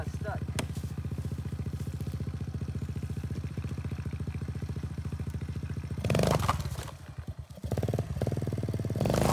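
A Kawasaki KLX 110 pit bike engine on an endurocross trials course chugs at a low, steady idle close by, then revs hard in a short burst and drops back, with a clatter near the end.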